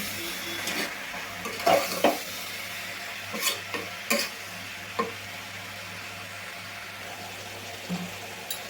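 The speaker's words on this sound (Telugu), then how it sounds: "1 నిమిషం పాటు ఇట్లా మగ్గనిచ్చుకుందామండి" Beans and tomato pieces cooking in a pan, stirred in short scraping strokes at irregular moments over a steady low sizzle, fairly close and moderately loud with no voices.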